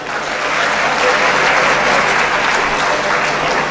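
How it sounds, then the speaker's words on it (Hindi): A university poetry-recital audience applauds a performing team, a dense, sustained wash of clapping at steady loudness from start to finish. "उनकी टीम के लिए एक बार तालियां बजा दें"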